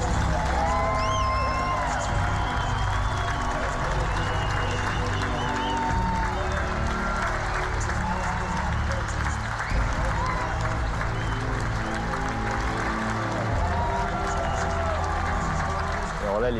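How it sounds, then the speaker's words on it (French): An American stadium crowd applauds and cheers the Patrouille de France pilots in a dense, unbroken roar of clapping and whoops that holds steady and loud from start to finish, with voices mixed in. "Alors là, les gens ont applaudi, mais ça n'arrêtait plus d'applaudir"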